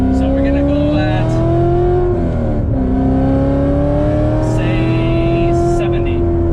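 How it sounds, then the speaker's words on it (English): A C7 Corvette Z06 engine revs and accelerates hard ahead of a braking test, a loud, close drone rising in pitch, briefly dipping at a gear change, then climbing again. "Let's see how fast this car can stop as well, which is very important for the track."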